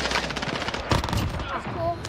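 Rapid gunfire in the Call of Duty Warzone video game, Rebirth Island map, sharp bursts of shots and impacts crackling through the whole stretch, mixed with busy in-game noise and voices talking over it.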